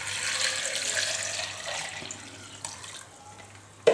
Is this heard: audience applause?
no